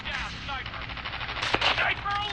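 Rapid gunfire from the video game Call of Duty, a burst of sharp shots with one louder crack near the middle, mixed with in-game sounds over about two seconds.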